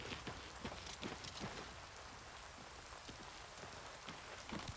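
Steady rain falls in the video game Oblivion Remastered, a dense patter of drops striking surfaces with scattered sharper splashes, even and moderately quiet from start to finish, no voices present.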